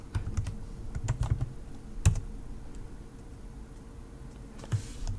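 Commands being typed on a computer keyboard, with short bursts of soft, close clicks and taps in uneven rhythm and a quieter stretch in the middle.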